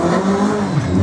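A Renault Clio Group A race car at a slalom event revs hard and accelerates loudly close by, the engine note climbing and holding in a sustained roar.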